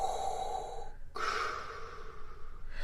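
A voice imitates Darth Vader's mechanical respirator breathing, a close, hissing inhale and then a drawn-out exhale after a short pause.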